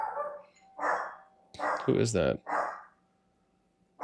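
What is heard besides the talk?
dog barking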